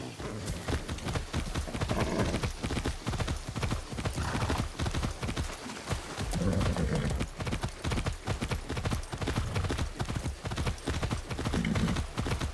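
Rapid rhythmic hoofbeats pound continuously, like a horse galloping on firm ground, close and loud with no pauses, in the video game Far Cry 6.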